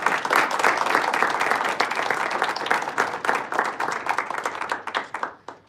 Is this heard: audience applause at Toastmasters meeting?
yes